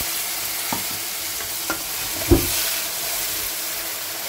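Pineapple puree is poured into hot spiced oil and hisses into a steady sizzle, with a few stirring clanks and one sharper bump, close and continuous without speech.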